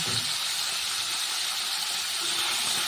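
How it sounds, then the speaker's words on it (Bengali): Radishes fry in a pan over a medium flame, giving a soft, steady hiss of oil that stays even and fairly quiet throughout, with no talking. "এই মূলোগুলো একটু ভেজে নিতে হবে এটা মিডিয়াম ফ্লেমে আমি রেখেছি"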